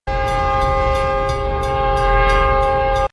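In the film Road House, a loud train horn sounds in steady sustained tones over rumbling rail noise, with a faint repeating clack running through the whole stretch.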